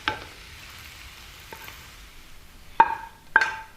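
Beef bulgogi hisses with a faint, steady sizzle in a hot pan, broken by a couple of sharp metallic clinks and taps from utensils against the pan, and no one speaks.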